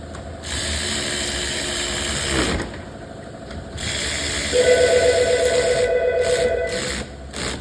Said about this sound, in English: I'm going to use my awesome little electric ratchet again